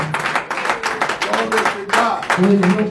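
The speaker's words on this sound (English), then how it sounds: "Can we clap our hands for the Most High God?" A church congregation claps hands in steady rhythmic bursts, loud and close, mixed with voices speaking or singing over the clapping.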